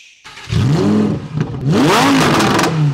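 A Lamborghini with four-wheel drive, weighing 1400 kg, starting up. A starter catch gives way to a loud, close engine that revs sharply twice, rising and falling in pitch, then settles into a strong idle with no talking.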